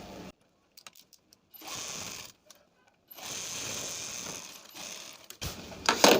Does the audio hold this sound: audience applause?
no